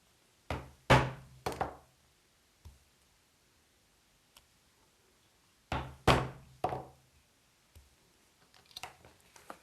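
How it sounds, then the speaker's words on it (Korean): A 2mm leathercraft hole punch driven through a thick paper pattern sheet, heard as two sharp clusters of close knocking taps separated by quiet, then a few fainter scattered ticks, with no talk. "2mm 펀치를 사용해서 구멍을 뚫겠습니다."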